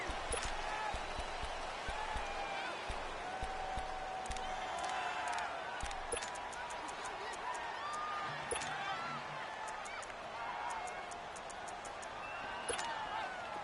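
Stadium crowd noise in an American football video game, a steady dense roar of spectators with scattered cheers and whistles running throughout, under a commentator's talk.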